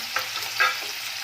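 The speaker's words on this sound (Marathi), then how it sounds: "कांदा छान कुरकुरीत होईपर्यंत परतून घ्यायचा आहे" Steady sizzling of onions frying in a pan, with a couple of brief stirring scrapes; no voices.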